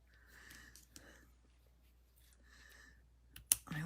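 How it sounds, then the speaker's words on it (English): Scissors trim a piece of craft ribbon in a few faint, quiet snips. Soft clicks and handling noise fall between the cuts. "trim this up just a bit"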